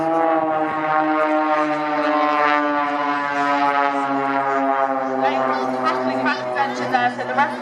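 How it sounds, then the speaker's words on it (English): Propeller aircraft of the Blades aerobatic team fly down the display line at a UK airport air display, making a steady, humming engine drone with a voice speaking over it. "the Blades are going to come all the way down the display line"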